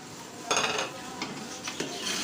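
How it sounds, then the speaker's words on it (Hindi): Spoon stirring kasuri methi and ground garam masala into a pot of mutton palak, with a few soft scraping strokes and light clinks against the pan, close and fairly quiet, no talking. "मिक्स करेंगे अच्छे तरीके से।"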